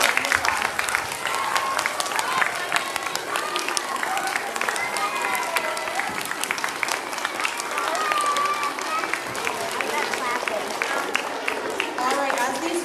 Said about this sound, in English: let's give all of these friends a really big round of applause